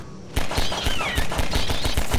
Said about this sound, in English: Let me get out my SMG for that alt fire.